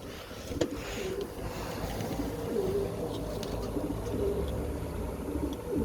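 Breeding pigeons coo in a loft, soft repeated low coos rising now and then over a steady background hum, fairly faint and without speech.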